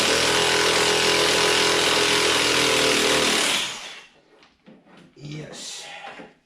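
A power tool loosens the nut on the lower control arm of a 2005 Mercury Mariner during rear axle seal work, a loud, continuous whirring burst for about three and a half seconds, then quieter clanks and shop noise.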